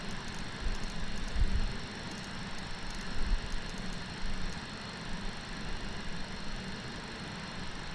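A Scandinavian SAS MD-82 jet rumbles steadily at an airport, a broad continuous engine roar with low rumbling swells, heard at a distance and without talk.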